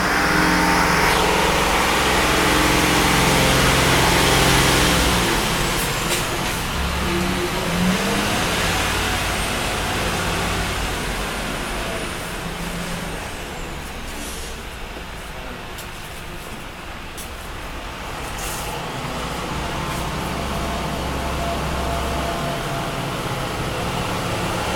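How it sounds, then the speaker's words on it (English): Mercedes-Benz Unimog truck engine working on the Ötigheim demonstration course in Germany, a loud, continuous mid-pitched drone that swells and eases as the vehicle climbs, with a faint voice in the background. "I suppose you've never seen a vehicle going upstairs."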